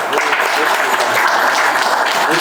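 A crowd at a student art exhibition applauds steadily, a dense, even patter of many hands at close range, with voices murmuring underneath.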